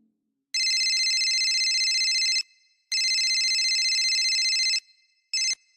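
A phone ringtone plays in two long, loud tonal bursts of about two seconds each, separated by a short gap, followed by the start of a third burst that cuts off abruptly, with no talking.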